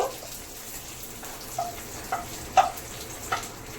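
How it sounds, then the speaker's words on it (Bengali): Cashews and raisins sizzle softly in ghee, a steady quiet fry broken by a few faint clinks of stirring, heard alone without talk. "কাজু কিশমিশ ফ্রাই হয়ে গেছে, এবার নামিয়ে নেব।"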